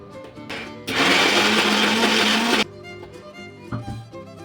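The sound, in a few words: mixer grinder grinding lentils and jaggery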